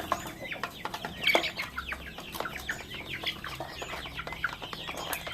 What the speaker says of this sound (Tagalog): Ito yung Rhode Island Red natin.